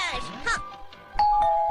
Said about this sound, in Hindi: से निकलकर हमारे घर भी घंटी बजाने आ गया।